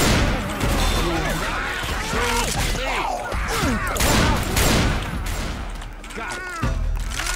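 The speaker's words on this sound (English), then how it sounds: "I'll just focus on shooting" Rapid gunfire from survivors battling a zombie horde in the co-op shooter Left 4 Dead 2, with dense overlapping shots and crashes running throughout, while players talk over the action.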